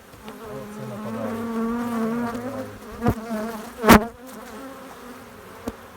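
Bees buzz close by at a log hive, a wavering drone that rises and falls in pitch, broken by a few sharp knocks and thumps.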